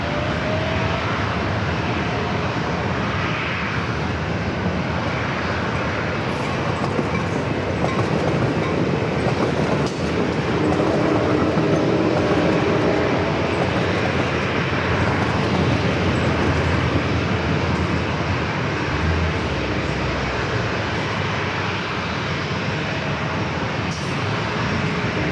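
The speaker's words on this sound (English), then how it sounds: "Cleared for takeoff from runway 27." A Boeing 787-9 Dreamliner takes off from runway 27 at San Diego airport, a continuous loud jet engine roar that holds steady for the whole stretch, broad and rumbling at a moderate distance.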